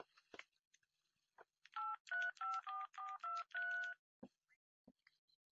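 A mobile phone is dialed in a radio drama: a rapid run of about eight distinct electronic keypad tones in quick succession, framed by faint scattered clicks and handling taps in an otherwise quiet room.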